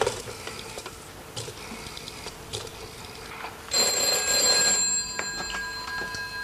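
An indoor telephone rings with a bright, insistent electric bell that rises sharply midway and then fades, after some faint clicking like dialing, with no talk over it.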